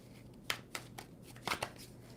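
Tarot cards being shuffled by hand, with a few quiet, crisp riffling bursts spaced out over a couple of seconds against a faint background hum.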